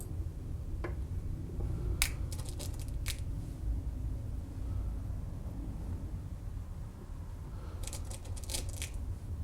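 Pellets drop into the magazine of a Colt Python CO2 pellet pistol, making a few small, sharp metallic clicks and ticks, heard in two brief clusters over a quiet, steady room hiss.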